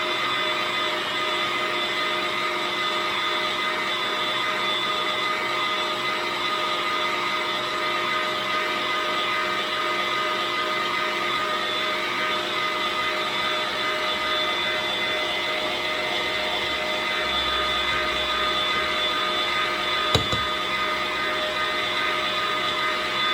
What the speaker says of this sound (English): So I'm going to be creaming again for like 2 minutes